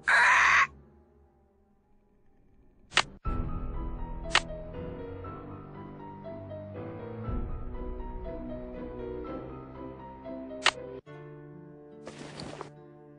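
A bird caws in a Nancy Drew adventure game set in a manor, The Curse of Blackmoor Manor: short, sharp calls break out now and then over steady background music, with a burst at the start and another near the end.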